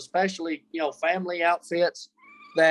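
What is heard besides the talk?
pet cat meowing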